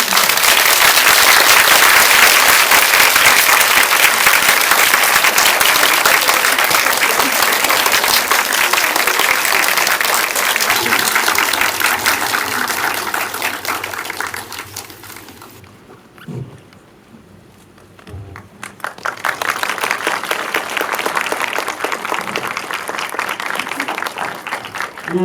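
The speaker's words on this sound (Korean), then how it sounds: "봉준호 감독님과 임성래 감독님을 박수로 자리에 모시도록 하겠습니다" Loud, dense audience applause in a Seoul cinema welcoming two film directors to a screening Q&A, sustained for about fifteen seconds, fading to near silence with a few stray sounds, then a softer burst of clapping resumes.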